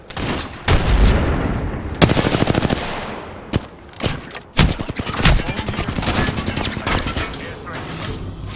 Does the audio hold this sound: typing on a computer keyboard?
no